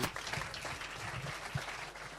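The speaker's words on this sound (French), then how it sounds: "Je crois qu'on peut applaudir cette dynamique." A room full of people clapping steadily, a dense patter of applause at moderate volume throughout.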